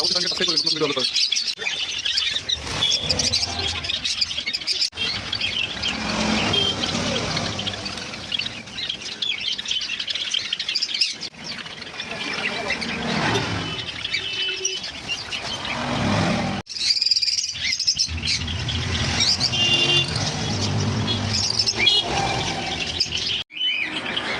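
Lovebirds, Java sparrows and cockatiels chirping in a busy market sale setting, continuous overlapping tweets and calls with occasional wing flutters, mixed with a voice speaking over them.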